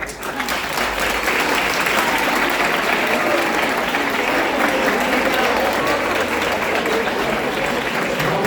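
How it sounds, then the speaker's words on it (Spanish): An audience at a workshop for families of disappeared persons claps for a participant, with loud, sustained, even applause filling the room almost to the end. "Un aplauso para él."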